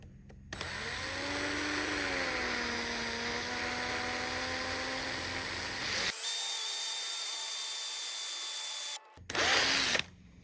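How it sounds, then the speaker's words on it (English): A power drill whines steadily as it bites into fairly thick die-cast metal, its pitch dipping under load, then stops and briefly revs again. "I'm drilling into reasonably thick die cast"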